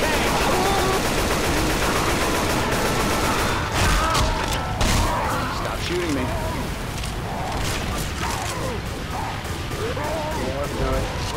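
Rapid gunfire rattles in Left 4 Dead 2, dense automatic bursts and sharp shots crackling loud and close over a busy game backdrop, with voices talking throughout.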